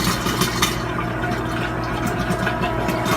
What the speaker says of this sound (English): I'm going to fill up each one of these gallon containers